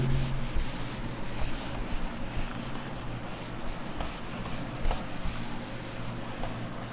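An eraser is rubbed across writing on a board, making quiet, continuous scrubbing and scratching strokes with small irregular bursts over several seconds.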